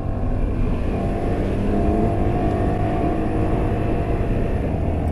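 Honda Africa Twin 125 motorcycle on an off-road ride gives a loud, steady engine drone close by, holding an even pitch throughout with no talking.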